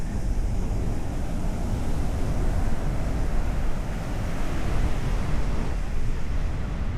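Atlantic Ocean waves roar steadily onto a cold, empty beach in Corolla, a continuous broadband wash mixed with wind buffeting the microphone, with no voices.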